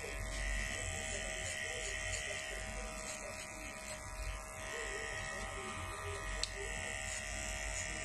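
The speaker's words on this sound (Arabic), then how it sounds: "هاي عندك ماكينة الصينية، بس هذا الصفر مالتها، صفر بالماكينة" A Chinese electric hair clipper set to zero buzzes steadily while cutting hair at a barber's. A constant close, high-pitched motor drone runs throughout, with a voice faintly present beneath it.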